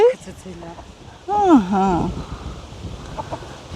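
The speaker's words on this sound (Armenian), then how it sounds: "այս քո հավերն է" Farmyard chickens cluck in a loud, near burst of calls that stands out over steady outdoor background noise, with a voice heard speaking nearby.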